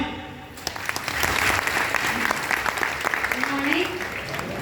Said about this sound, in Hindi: तो तालियां।